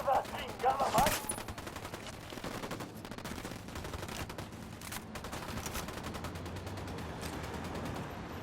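Automatic gunfire bursts in Ghost Recon Wildlands, a loud cluster of shots near the start followed by steadier, rattling fire that continues through the clip, with a voice briefly heard amid the shooting.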